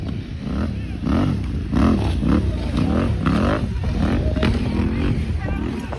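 Enduro motorcycles at an off-road challenge course rev and roar hard with rising, wavering engine tones, close and loud, while excited spectators shout over them.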